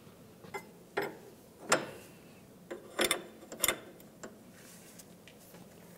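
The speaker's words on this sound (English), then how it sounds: "hold your tie rod end still while you continue tightening the jam nut" A wrench tightening the jam nut on the outer tie rod end of a 2010-2013 Ford Transit Connect, heard as a few separate close metallic clicks and ratcheting ticks at uneven intervals, with no talking.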